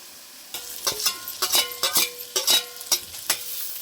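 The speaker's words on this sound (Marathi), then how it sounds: "कांदा चांगला मऊ करून घ्यायचा" Onions fry until soft in a pan for a village-style raankel vegetable dish, a quiet sizzle broken by a quick run of sharp spatula scrapes and clacks against the pan, close and loud.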